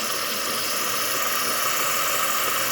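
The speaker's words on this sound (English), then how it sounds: "And now it's frothing." Continuous broadband hiss and low hum of a Gaggia espresso machine steam wand frothing milk, steady and close throughout.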